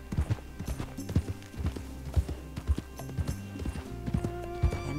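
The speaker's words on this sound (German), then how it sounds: "Werd einfach unauffällig mit dem Pferd hier vorbeireiten" A horse's hooves clip-clop in a steady walking rhythm while being ridden in Red Dead Redemption 2, close and distinct against a quiet game background with a faint musical drone.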